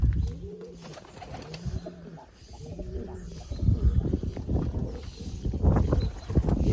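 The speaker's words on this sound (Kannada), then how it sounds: "ಇನ್ನು ಕೆಲವೊಂದು ಮೇಲ್ ಬರ್ಡ್ಸ್ ಎಲ್ಲ ಹೊರಗಡೆ ಬಂದಿಲ್ಲ, ಇನ್ನು ಎಲ್ಲ ಒಳಗಡೆನೇ ಇದ್ದಾವೆ." Pigeons coo repeatedly inside a loft, several birds giving rhythmic low calls close by, with rustling and shuffling growing louder in the second half.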